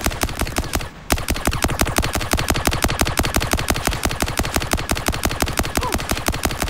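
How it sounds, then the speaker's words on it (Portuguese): Rapid automatic gunfire in a roleplay video game shootout, loud and continuous bursts of evenly spaced shots with a brief pause near the start, no talk. "Por que que atira então?"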